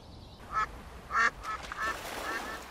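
A duck raised without its mother gives a few short, raspy quacks spaced over a couple of seconds, fairly close and clear against a quiet background.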